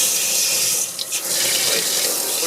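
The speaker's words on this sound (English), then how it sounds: "Now the water is coming out through the tube." Water gushes out through an aquarium tube into a tank setup, a bright continuous hiss with a brief dip and gurgle near the middle, close and steady.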